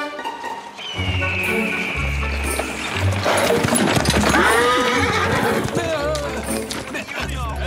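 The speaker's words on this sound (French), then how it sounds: "Mais d'où ils sortent ces chevaux?" Horses in a Zorro cartoon neigh and whinny over a rush of galloping hooves, with loud clip-clop and rising and falling calls running throughout alongside music and effects, while voices talk over parts of it.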